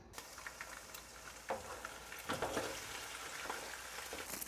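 Small fish frying in a pan deep in oil make a steady, fairly quiet sizzle and crackle, with a few louder pops rising out of the hiss.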